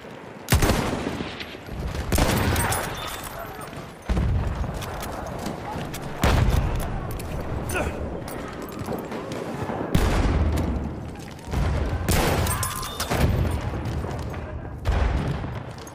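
Machine gun fire in the World War I shooter Battlefield 1, loud bursts of rapid shots and booming blasts in repeated waves, with voices calling out during the firefight.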